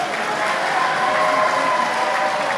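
A wrestling crowd at a lucha-style women's wrestling show in Toronto sends up a dense, steady wash of cheering and applause, evenly loud throughout, with no single voice standing out.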